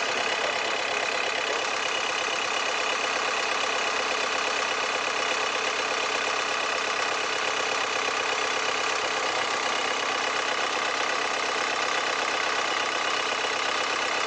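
An Audi A6 engine idles steadily after a restart, a continuous even drone with a faint rhythmic knock underneath, close and unchanging, with no voices.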